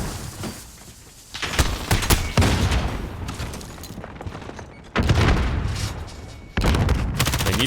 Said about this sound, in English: Wolfie just tearing it up with the Uzi.